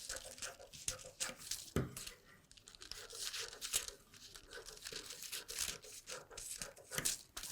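Scissors cutting a bust dart out of a paper sewing pattern for a summer dress, crisp crinkling and rustling of paper up close, quiet, no talking.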